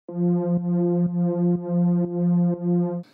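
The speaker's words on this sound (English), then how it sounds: "talking about this drone synth in the background instead of the lead" A steady low synth drone holding one note, with rich buzzy harmonics and a soft rhythmic pulsing about twice per second, playing alone.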